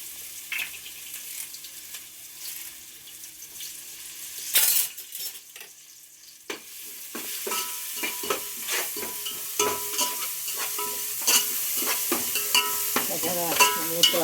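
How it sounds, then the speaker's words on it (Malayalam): Garlic, ginger and curry leaves dropped into hot oil for chicken curry: quiet at first, then a burst of crackling and a building, spitting sizzle with stirring clinks, close and continuous. "ഒഴിച്ച് എണ്ണയിൽ വെളുത്തുള്ളി ഇഞ്ചിയും കൂടെ ഇട്ട്,"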